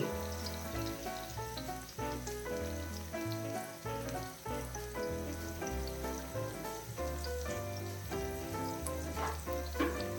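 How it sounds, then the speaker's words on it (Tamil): Slices of bitter gourd fry in a pan over a lowered flame, giving a steady, even sizzle that continues throughout with background music playing over it. "இப்போ ஃப்ளைம் கம்மி பண்ணி வச்சு இதை ஃப்ரை பண்ணிடலாம்"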